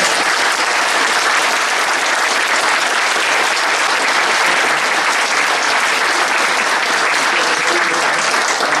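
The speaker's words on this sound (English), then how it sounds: "So just have one more little round of applause" A live audience at a fan convention breaks into a sustained, dense round of applause, steady and loud throughout with no pauses and no talking over it.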